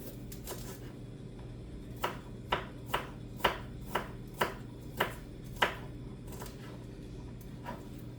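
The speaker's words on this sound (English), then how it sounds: "while I'm chopping these vegetables" A knife chops celery on a board in a steady run of about eight crisp strokes, evenly spaced and close, over a low background hum.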